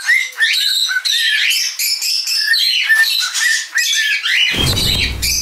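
Rescued pet parakeets sing and chatter continuously in a room where about thirty birds fly, a dense, bright mix of warbles and squawks that ends in a short burst of rustling noise.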